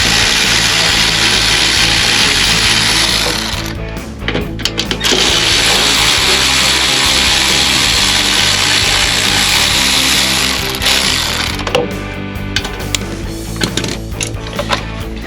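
Steady loud whirring of a power tool working on a Jeep Gladiator diesel skid plate, running continuously with a short break and clattering bursts near the end.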